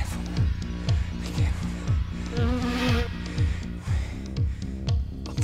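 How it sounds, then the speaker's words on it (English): A huge nest of killer bees buzzing as a colony, heard from a short distance: a steady droning hum with a pulsing, rhythmic swell that carries through the whole stretch without talk. "there's a huge nest of killer bees there. And you can hear them buzz from right here"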